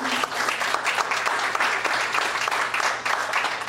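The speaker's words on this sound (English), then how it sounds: "I would like to give them applause right now for how they work together as a team" Steady applause from an audience honouring a team, continuous clapping at moderate loudness for the whole stretch with no speech over it.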